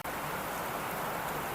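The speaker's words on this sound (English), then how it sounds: "That's a pretty nice little country rain out there." Steady country rain falling outside during pecan harvest season, a constant broadband hiss with no talk over it.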